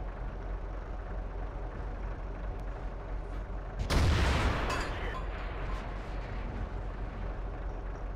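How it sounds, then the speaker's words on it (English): A tank cannon in World of Tanks fires one heavy, booming shot near the four-second mark over a constant low engine rumble, its blast trailing off over about a second. "And then I get one more shot on this guy before..."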